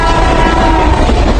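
A passenger train passing on a homeward rail journey, heard as a loud, steady rumble of wheels and carriages with a sustained horn tone running through it.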